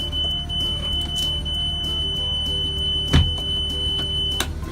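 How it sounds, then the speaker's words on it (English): A school bus emergency window alarm sounds, a steady high-pitched electronic tone ringing continuously inside the bus, with a brief thump partway through. "You have a school bus that has 4 window alarms."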